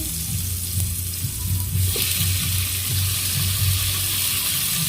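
Chicken sizzles and fries steadily in a hot pan, a close, constant crackle with occasional stirring scrapes and no talking.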